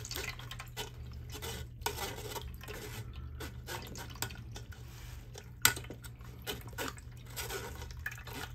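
A spoon stirs a homemade two-in-one fertilizer mixture for desert roses, giving a steady run of wet scraping and sloshing strokes with small clinks, close and fairly quiet, with no talking.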